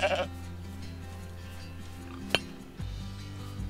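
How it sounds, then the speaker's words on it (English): A sheep in the game Rising World bleats in a short quavering burst at the start, followed by a sharp click and a low game hum that shifts pitch near the end, with no talk. "There's a sheep."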